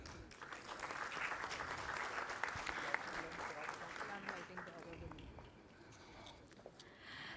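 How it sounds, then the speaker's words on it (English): A long burst of crowd applause at a paediatric surgery department foundation day event at KGMU, steady and dense, fading slightly toward the end, with some voices mixed in. "please give them a big round of applause"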